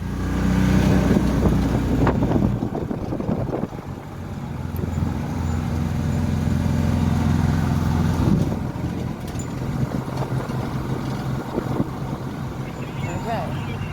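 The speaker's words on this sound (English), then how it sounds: "we got those all Lamborghinis and Ferraris and all sorts of, can you hear them?" Deep engine rumble from several Lamborghinis and Ferraris nearby at a supercar show, steady and loud, with people talking over it throughout.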